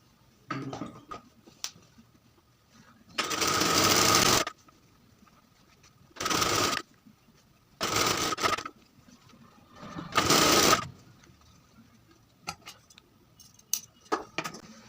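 A sewing machine stitches piping onto a dress in four bursts of steady, loud whirring, each lasting about one to one and a half seconds, separated by quiet pauses with faint handling clicks.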